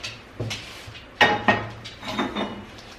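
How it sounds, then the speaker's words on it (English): A cooking pan is handled and set out in a kitchen, giving several light clanks and knocks of metal against a hard surface, close by and irregular. "I guess I should get my pan ready."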